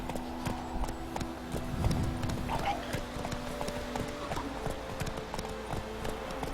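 Horse hooves clip-clop at a gallop in the video game Witcher 3, a steady rapid rhythm with occasional whinnies over game music, while a player talks excitedly.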